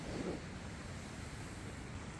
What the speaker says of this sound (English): I love hearing the sound of the creek running next to us.